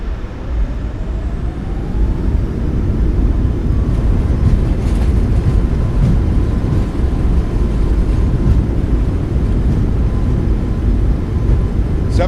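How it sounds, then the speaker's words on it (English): Steady loud low rumble of a Boeing 737 MAX 8 landing rollout with thrust reversers deployed in a flight simulator, a continuous broadband roar holding evenly through the deceleration with no talk. "Nose down gently. Reversers are out. Decelerating."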